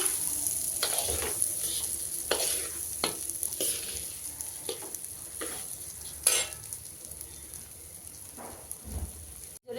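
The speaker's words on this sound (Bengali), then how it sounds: "চালটা দিয়ে ভেজে নেব।" Gopal bhog rice fries in a pan with whole spices for pulao, a soft continuous sizzle broken by repeated sharp scrapes and clinks of stirring, close and moderately quiet, with no voices.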